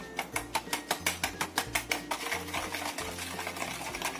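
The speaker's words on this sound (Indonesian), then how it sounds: "Kita aduk sampai rata pokoknya." Sweet potato batter being stirred in a bowl until the sugar dissolves, a rapid run of regular scraping strokes that then settles into a steadier, softer stirring rhythm, close and alone.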